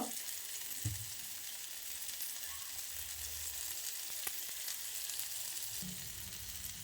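River fish (gauri) shallow-fries in a little oil over a low flame, giving a soft, continuous sizzle. A few faint taps break in now and then, and there is no speech.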